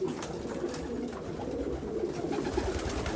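Low, soft cooing of racing pigeons continues throughout as they finish feeding, mixed with a busy rustling and pecking background from the flock nearby.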